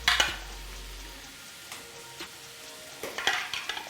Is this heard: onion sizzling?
yes